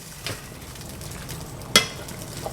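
Orecchiette pasta being stirred into a pan with sausage and broccoli rabe, a soft continuous sizzle with faint scraping and one sharp utensil clink against the pan.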